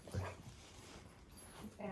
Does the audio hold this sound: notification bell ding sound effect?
no